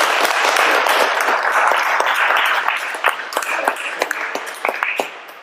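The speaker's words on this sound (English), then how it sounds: "Let's give them a round of applause." Audience applause for a panel at a sustainability community event in Atlanta, a dense wash of many hands clapping that tapers into scattered individual claps toward the end.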